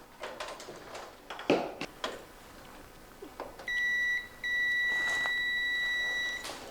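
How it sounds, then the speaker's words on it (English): A multimeter set to diode check gives a steady electronic continuity beep while testing a fuse in an ultrasonic cleaner. Two close, clear tones sound, a short one then a longer one, after a few faint handling clicks. "It's going to give us a beep as long as we have continuity."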